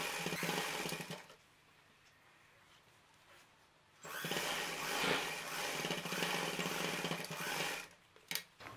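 A sewing machine stitches along the edge of fabric for a child's shorts, with a steady whirring run, a quiet pause, then a longer continuous burst close by.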